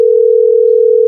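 A steady, loud single-pitch telephone tone on a phone call, held unbroken for about a second.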